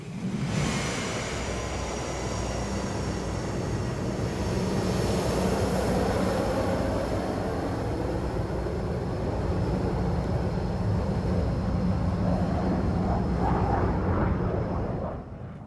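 An RAF 74 Squadron F-4 Phantom jet fighter from RAF Wattisham flies at an air show, a loud sustained jet roar that swells and holds for the whole stretch, with no talk.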